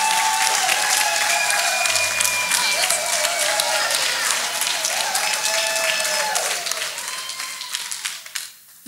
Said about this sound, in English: People of God, clap your hands for Jesus Christ.